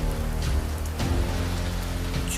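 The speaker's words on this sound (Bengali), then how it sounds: "ঝমঝম করে বৃষ্টি পড়ছে," Heavy rain pours steadily as a sound effect in a stormy night scene, a dense continuous hiss with a faint low rumble underneath and no voices.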